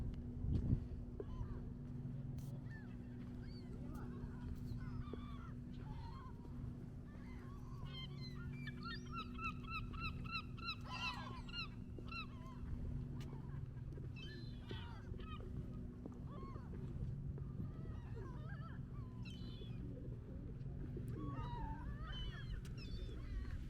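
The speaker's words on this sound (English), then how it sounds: "You got this guy feeding all the seagulls" Seagulls being fed on the beach at Coney Island call in scattered squawks and cries, mostly faint and distant, with a busier cluster midway, over a constant low rumble of wind and traffic.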